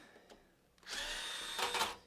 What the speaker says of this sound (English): adjustable torque hand drill here